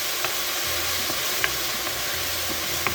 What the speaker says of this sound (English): all they're gonna hear is the sizzle